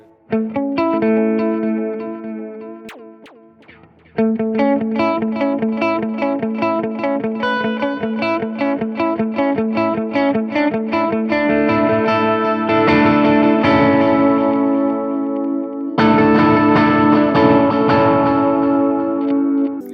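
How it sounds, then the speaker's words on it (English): An electric guitar runs through a long modulated delay on a Fender Tone Master amp, a flowing melodic line with echoing repeats smearing the notes, a brief pause after four seconds, then denser, brighter phrases filling the rest. "the next stage of the delay is a longer delay, and the delay with the modulation like the vintage and analog ones"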